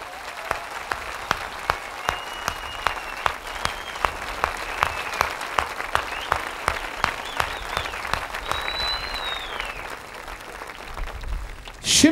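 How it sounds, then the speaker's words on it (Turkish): Studio audience on a Turkish television talk show applauding heartily for the national youth team, a dense wash of clapping from a large crowd that holds steady for about twelve seconds. "büyük bir canlılıkla yürekten alkışlar mıyız?"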